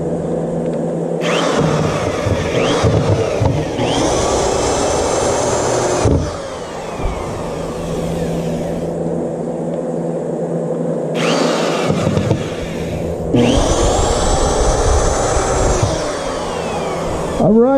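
Power driver running in long bursts while sinking screws into a homemade wooden fillet table, a loud whining motor drone that starts and stops twice, with brief pauses between runs.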